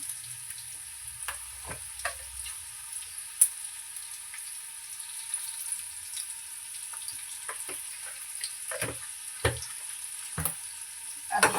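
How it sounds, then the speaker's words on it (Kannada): Green chillies and turmeric fry in oil with a thin, even hiss, broken by scattered scrapes and taps of a spoon stirring the pan, louder near the end. "ಹಸಿ ಹಸಿವತ್ತಿನ ಹೋಗೋವರೆಗೂ ಚೆನ್ನಾಗಿ ಫ್ರೈ ಮಾಡ್ಕೋಬೇಕು"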